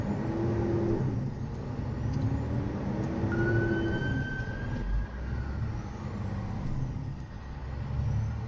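A Donaghy Scania V8 truck rumbles past on the road, a steady low engine drone with traffic noise around, moderately near and without talk.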